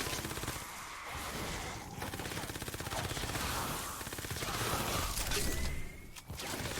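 The Spectre gun in Fortnite Save the World fires in rapid, continuous bursts, a dense rattle of close gunshots with brief gaps and mechanical clicks between volleys.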